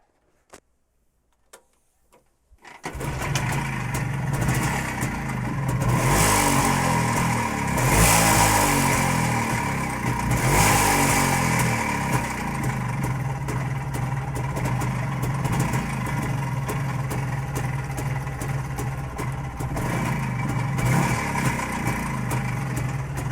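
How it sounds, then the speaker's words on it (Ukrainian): A Jawa 350 motorcycle engine fires up after a few clicks and runs with a loud, close, uneven two-stroke rasp, surging in several throttle blips before holding a rough, steady idle, with no talk over it. "Я зараз газну, і ти подивишся, як він розвиває обороти."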